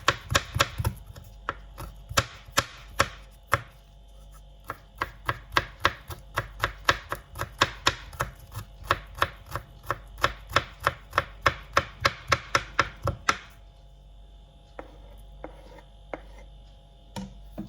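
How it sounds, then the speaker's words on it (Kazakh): A knife finely chops garlic rapidly and steadily on a board, many crisp taps in a fast rhythm, then slower scattered taps near the end. "Чеснок, яғни сарымсақты майдалап турап, жаңа массаға саламыз"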